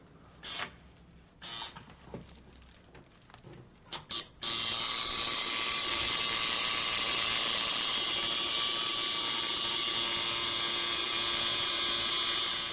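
A tattoo machine pulls a line with a continuous, even buzz that starts abruptly after a few short, sparse bursts. The buzz stays close and loud until the end, with no voices over it.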